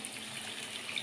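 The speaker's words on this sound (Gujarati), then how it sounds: "પાણી નાખશું।" Water pours in a steady, faint stream as it is added to ragda, a Kathiyawadi-style pea curry, in a cooking pot.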